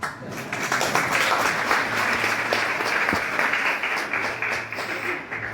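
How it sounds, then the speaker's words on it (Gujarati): Steady applause from a temple audience at a Swaminarayan Shakotsav gathering, a dense, continuous wash of many hands clapping at moderate loudness for several seconds. "હવે જે નહીં બોલતા એને તાળી પાડવાની"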